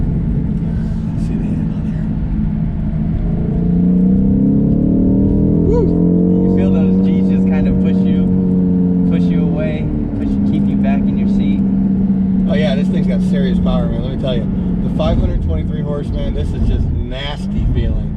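A 2019 BMW M850i gives a deep engine rumble that rises and falls as the throttle is pressed and released, heard from the cabin while driving, with someone talking over it for much of the time.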